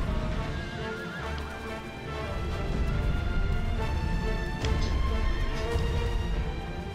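A horse whinnies and snorts while its hooves clop steadily in Shadow of the Colossus, loud and close, layered over a continuous game ambience with no voices.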